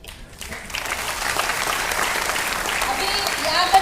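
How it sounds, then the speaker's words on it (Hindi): An audience at a Mi Lifestyle Marketing event breaks into sustained applause that builds quickly and holds steady and fairly loud. "सारे लोग तालियां बजा रहे हैं"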